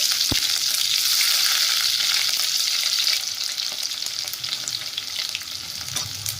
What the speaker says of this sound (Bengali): পেঁয়াজটা দিয়ে একটু ভালো করে ভেজে নিতে হবে